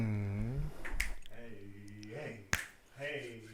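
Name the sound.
finger snap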